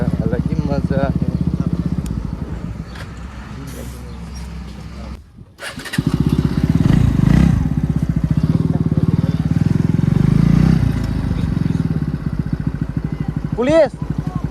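A Bajaj Pulsar NS200 motorcycle rides in hot sun, its engine droning loud and steady close by, with a short drop in the middle before the engine note resumes.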